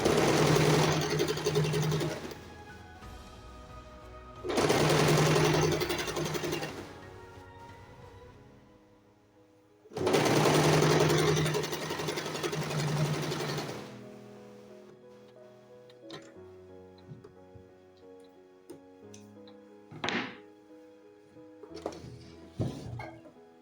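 A domestic sewing machine stitching turban fabric for a gele, running in three loud bursts of steady whirring stitches of a few seconds each, separated by pauses, followed by quieter clicks and handling sounds.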